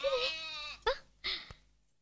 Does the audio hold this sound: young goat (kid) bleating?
yes